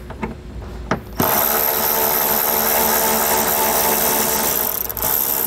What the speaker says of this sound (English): So now we'll just take our T30 bit and we'll get this loosened up.